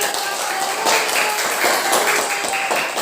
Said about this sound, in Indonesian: Oke, tepuk tangan kembali.